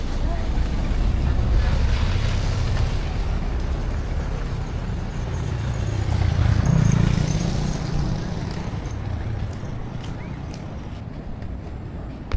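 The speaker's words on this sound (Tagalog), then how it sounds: "Lakas yung alon, no?" Strong waves and gusting wind roar at the shore, a broad rumbling surge that swells and recedes with heavy wind buffeting on the microphone; faint voices are briefly present.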